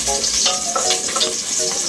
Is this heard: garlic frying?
yes